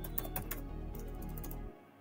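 Fast typing on a computer keyboard while entering text into a web form, a steady run of close, crisp key clicks that stops abruptly near the end.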